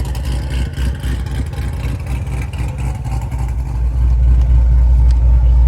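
A Magnuson-supercharged 2019 Corvette C7 Z06 idles close up with a loud, steady, deep rumble, swelling slightly louder near the end.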